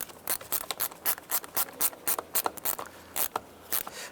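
Rapid ratchet clicks snugging down a bolt on a 2004-2009 Dodge Durango during intake manifold replacement, a close, steady run of short bursts with brief pauses and no talk.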